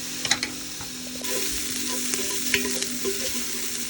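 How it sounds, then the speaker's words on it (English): A garlic mixture sizzles steadily in a hot pan, with occasional clicks and scrapes of stirring over the crackling hiss. "Just let that cook down a little bit while I finish sauteing the rest."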